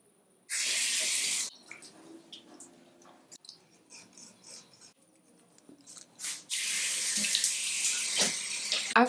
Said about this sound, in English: we're going to take our cleanser, whatever cleanser you're using. I'm using Face Facts. Yeah. To wash our face.